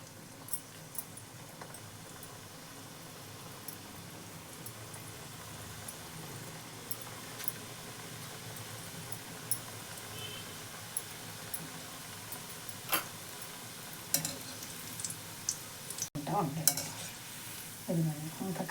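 Gulab jamun dough frying slowly in a pan of oil, a steady close sizzle with faint occasional ticks and clinks, no talking.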